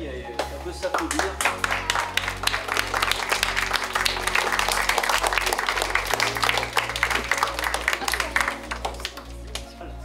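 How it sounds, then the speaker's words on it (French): An audience taking part in a dictation event for ELA bursts into sustained applause, with dense, steady clapping for about ten seconds that fades slightly near the end. "On peut s'applaudir."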